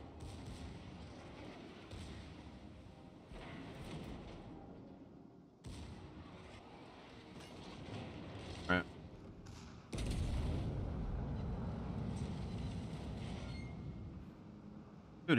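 Heavy naval guns fire in a warship video game with the Kronshtadt, booming deep and loud with sharp thuds, one large blast near the end, while players talk over the battle.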